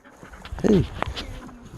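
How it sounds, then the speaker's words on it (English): A puppy on a blackberry farm lets out a brief whimpering yelp, then softer panting and small sounds close by against outdoor ambience. "Look at that puppy."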